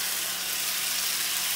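Chicken legs pan-fry in a soy-sauce chicken dish with a steady, dense sizzle that holds close and even throughout, with no talk over it.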